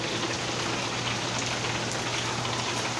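Steady rain hiss in a video game, a dense, even wash of falling drops with a low hum underneath, continuous and fairly loud with no talking.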